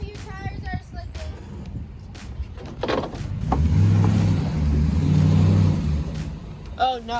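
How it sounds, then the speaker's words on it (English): Truck engine revving as its tires slip on a wet, slick boat ramp while hauling a boat trailer, a loud swelling rumble in the middle, with people talking before and after. "your tires are slipping"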